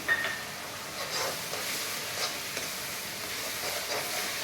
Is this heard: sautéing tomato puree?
yes